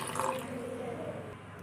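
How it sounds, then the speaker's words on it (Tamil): Water poured onto red poha in a bowl to soak it, a steady close liquid pour lasting under two seconds and fading at the end. "இப்போ வந்து தண்ணி ஊற்றி நம்ம ஊற வச்சுக்கலாம்"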